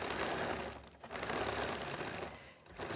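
A sewing machine stitches a quilt at close range in a rapid, steady mechanical chatter, briefly pausing twice before running again, with no speech over it.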